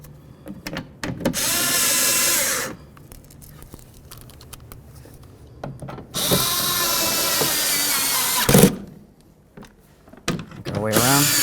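A power tool runs close by while driving in Jeep Liberty door bolts, with two long whirring bursts, a brief squeal and a final short run, and some handling noise between them.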